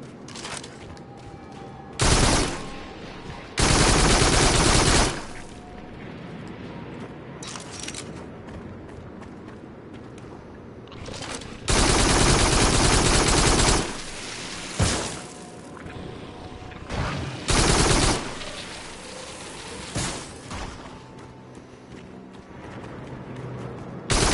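Bursts of heavy gunfire from the virtual reality shooter Farpoint, loud clustered volleys several seconds long separated by quieter stretches of game ambience.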